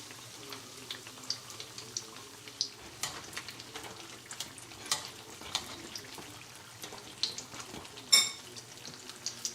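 Egg rolls fry in hot oil with a steady low sizzle broken by frequent light clicks and taps as they are turned, plus one sharp clatter near the end; no voices.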